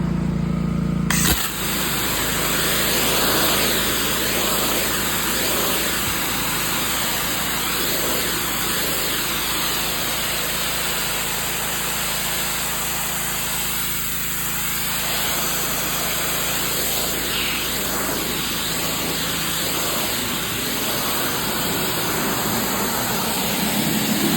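A pressure washer runs with just the wand, its engine droning loudly and steadily under a constant hiss of spraying water, close and uninterrupted.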